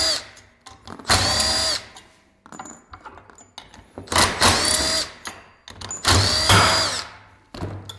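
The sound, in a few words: power tool removing bolts with 10 mm socket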